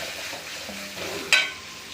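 Curry leaves dropped into hot oil for a Tamil chicken kulambu give a steady, moderate frying sizzle, with a sharp crackling burst partway through and stirring scrapes underneath.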